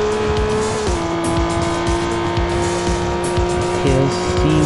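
A Porsche Boxster GTS in the mobile racing game Real Racing 3 holds a continuous tire skid, a steady loud squeal over engine drone whose pitch shifts a few times during the slide, with no voices.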